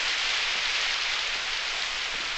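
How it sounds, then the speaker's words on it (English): Heavy rain falls steadily and evenly, a dense hiss of drops on surfaces with no voices over it. "We'll just have to wait till the bloody rain stops."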